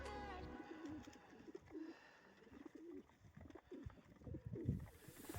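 Pigeons in an outdoor aviary coo in soft, repeated low calls that overlap throughout, fairly quiet and close, with faint rustling around them.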